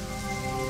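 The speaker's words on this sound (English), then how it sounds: "And of course it's raining." A steady wash of rain in the video game .hack//Mutation falls continuously, with an even hiss and no pauses, under a faint tonal hum.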